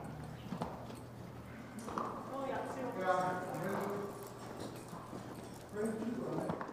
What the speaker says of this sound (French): Les mulets sont des hybrides issus d'un âne et d'une jument.